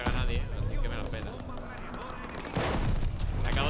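Gunfire and a grenade in Call of Duty Vanguard come through as dense, rapid crackling shots over a rushing noisy background, with a louder burst near the end and speech layered over the action.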